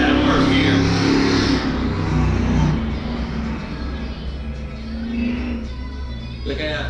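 Crown Vic Pro race cars roaring around the dirt track at Swainsboro Raceway, with a loud, continuous engine drone that swells and eases as the cars run through the corners.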